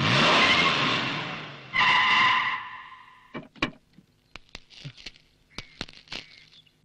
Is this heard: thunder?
no